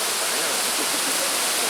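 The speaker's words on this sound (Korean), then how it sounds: "그림 같은 폭포가 나타난다." Manai Falls pouring into a gorge in Kyushu, Japan, a dense, constant roar of falling water filling the whole clip at close range.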